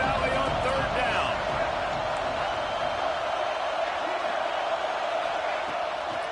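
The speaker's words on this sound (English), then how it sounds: "Here comes the noise from this big crowd in Happy Valley on third down." A big stadium crowd at Happy Valley roars on third down in a Michigan versus Penn State football video game, a dense, sustained wash of noise that holds steady throughout.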